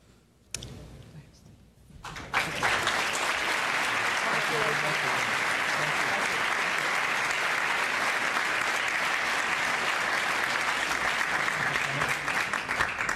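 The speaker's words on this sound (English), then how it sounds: "Thank you all for applauding these wonderful individuals who are role models" Sustained audience applause at an awards event for social entrepreneurs in Peru, starting after a brief quiet moment and a faint knock, then steady dense clapping that fills the room and continues loud to the end.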